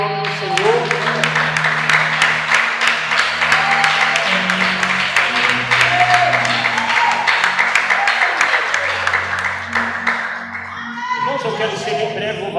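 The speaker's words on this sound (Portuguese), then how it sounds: "bate a salva de palmas alta" A church congregation claps loudly and steadily for about ten seconds, with voices singing or calling out over the applause before the clapping thins and a preacher's speech resumes.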